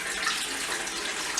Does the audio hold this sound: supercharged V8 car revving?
no